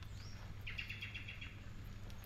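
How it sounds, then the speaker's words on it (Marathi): Birds chirping in an orchard on a rainy Konkan morning: a thin whistled call, then a quick run of bright repeated chirps, close and clear over a steady low rumble of rain. "सकाळीं उठल्या उठल्या न्हय पक्ष्यांचो आवाज स्टार्ट जाता"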